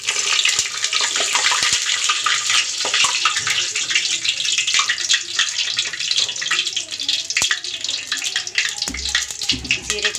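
Cumin seeds crackling in hot oil, a loud continuous hissing sizzle with dense popping textures close up, and a low thump near the end.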